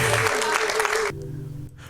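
A worship crowd claps and cheers in a dense burst of applause that cuts off abruptly after about a second, leaving a quieter hum with a voice under it.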